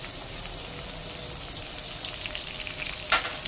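Kashmiri chilli powder and turmeric sizzle in hot oil, with a steady soft frying hiss throughout and a brief sharp clink near the end, close by and with no talking.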